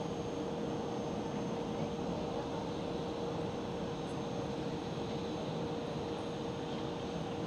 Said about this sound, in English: So there goes Singapore Airlines.